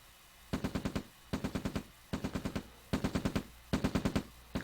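Riflemen open fire on an oil derrick in a real-time strategy game, their guns crackling in five tight bursts of rapid shots separated by brief pauses, loud and close.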